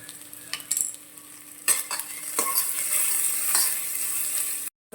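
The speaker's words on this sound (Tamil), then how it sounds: "இதையும் நல்லா வதக்கிடுங்க. வெங்காயம் நல்லா வதங்கட்டும்." Onions and curry leaves sauté in a pan for a Tamil nookal kuzhambu, with a bright, even sizzle under repeated close scraping stirs and a few clinks of the spoon, ending in a brief cut-out; no one talks.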